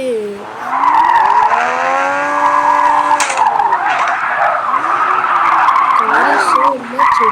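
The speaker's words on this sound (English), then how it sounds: "Car is so much drifty." A modified Supra MK5 drifts in the video game Drive Zone Online, its engine wailing and its tires squealing loudly in long sweeping slides, with a voice talking over it at times.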